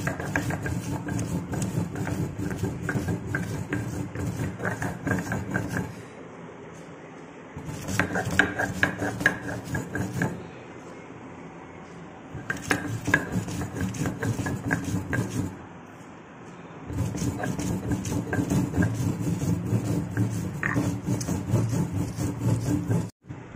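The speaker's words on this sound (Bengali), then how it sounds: "একদম মিহি করে শুকনো লঙ্কাটা বেটে নেওয়া হচ্ছে।" Dried red chillies ground fine on a flat grinding stone (sil) with a stone roller, a steady rhythmic rasping and scraping in loud repeated strokes, pausing briefly three times before resuming.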